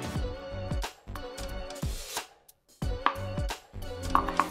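A knife slices through large scallops, giving several short, close cutting strokes in a loose rhythm, with pauses between cuts and a brief silence midway.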